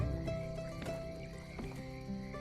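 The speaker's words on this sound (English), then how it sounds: "little crickets and frogs" Faint night ambience of crickets and croaking frogs in the farming life-sim game My Time at Sandrock, a soft steady chorus with scattered croaks at a distance.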